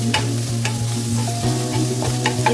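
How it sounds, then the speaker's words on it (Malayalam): Crushed garlic and ginger frying with softened sautéed onions for a mutton curry, a steady close sizzle with scraping stir strokes and occasional clinks throughout, no voices. "സവാളയ്ക്ക് നല്ലോണം വാടിക്കഴിഞ്ഞതിലോട്ടാണ് ഞാൻ ഇഞ്ചിയും വെളുത്തുള്ളിയൊക്കെ ചതച്ചെടുത്ത് കൊടുക്കാം."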